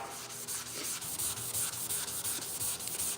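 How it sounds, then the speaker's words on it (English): Steady back-and-forth scrubbing of wet sandpaper against a surface, rapid rhythmic strokes close up with no talking. "I'm water sanding to get this thing slick"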